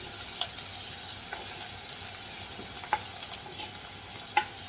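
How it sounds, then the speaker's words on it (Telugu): Chopped onions stirred through hot oil in a frying pan while cooking an egg curry, a steady close sizzle with light scraping strokes and a few sharper ticks. "ఇప్పుడు ఉల్లిపాయలు అన్నీ వేసేయాలి."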